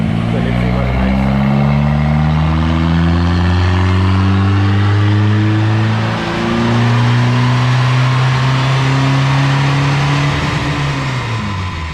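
A VW Golf MK2 GTI 16v accelerates hard on a hill road, its engine note climbing steadily and loudly from inside the car. A brief dip around a gear change is followed by another long, rising pull.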